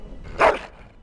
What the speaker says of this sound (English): That is a wonderful dog.